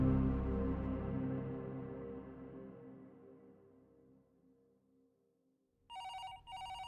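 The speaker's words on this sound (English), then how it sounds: "the phone rang" A telephone bell rings in two short bursts near the end, clear and close, after a decaying low musical tone fades into near silence; no one speaks.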